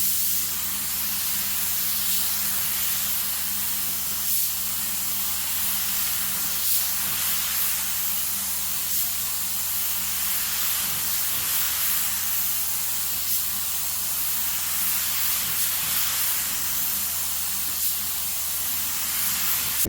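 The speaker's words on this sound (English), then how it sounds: "let's go ahead and spray a few more" A continuous close hiss of spray paint from an aerosol can runs throughout, with faint pulses as the spray is swept back and forth, with no speech.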